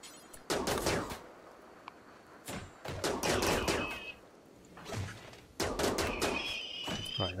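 Several bursts of rapid gunfire from the RimWorld video game, loud crackling volleys separated by short pauses, with a few whistling ricochet-like tones.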